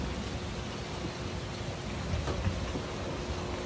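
Steady rain falling on a rainy afternoon, a dense continuous hiss of drops on surfaces with no breaks, moderately loud and unchanging across the whole stretch.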